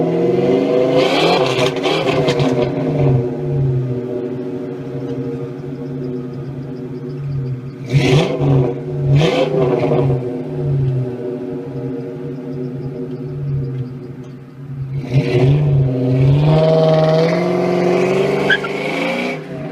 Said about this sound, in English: I do really enjoy the sound of the Mustang.